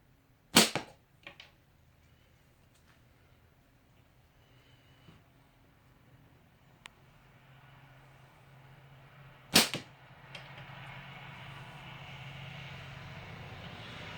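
A Game Keeper John slingshot fires twice, two sharp snapping shots spaced several seconds apart against quiet outdoor background, with faint light knocks between them.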